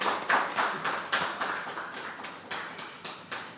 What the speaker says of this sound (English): A lusty round of applause, ladies and gentlemen.